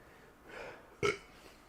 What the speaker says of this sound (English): Every time I go on camera, I always have to burp.